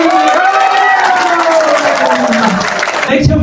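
Applause and cheering from guests at a Nepali wedding, a dense steady wash of clapping and voices throughout, loud and close, with a sharper change near the end.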